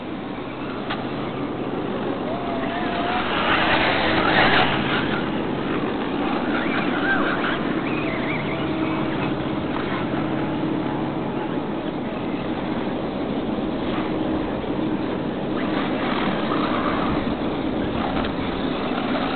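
A remote control car drives at an offroad RC raceway, its motor giving a loud, continuous buzzing whine that swells and eases slightly as it moves around the track.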